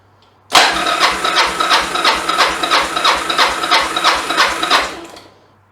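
Yamaha XV750 Virago V-twin cranked over by the starter during a compression test, a loud, close, rhythmic whirring churn with regular pulses for about five seconds before winding down, no ignition.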